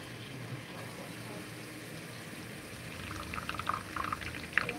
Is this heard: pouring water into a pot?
yes